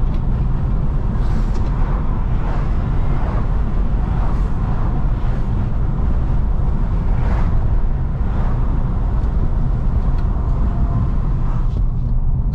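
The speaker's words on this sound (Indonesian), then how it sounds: "Ini mumpung di jalannya agak kecepatan 60 km per jam, aku coba buka biar kalian dengerin seberapa bising" Loud, constant rumbling road noise with rushing wind from inside a 2023 Toyota Veloz Q CVT driving at about 60 km/h with a window open, steady throughout with no talking.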